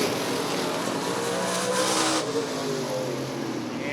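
Race cars roar past at Rockford Speedway during a bracket racing event, a loud, continuous engine drone with rising revs and possible tire squeal, close and steady throughout.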